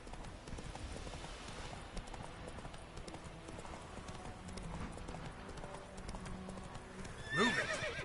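Roach, the horse in The Witcher 3, drums rapid hoofbeats in a gallop, close and continuous, and a sharp whinny rises near the end over steady background noise.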